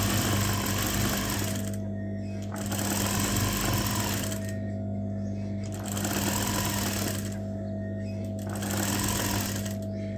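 A sewing machine stitches thin fabric cord in four loud runs, each a rapid steady whir lasting a couple of seconds and separated by brief pauses, heard up close with no talk.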